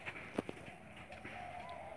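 Fantail pigeons cooing in a loft, a few soft low coos and throaty bursts close by over a faint ambient background, with no speech.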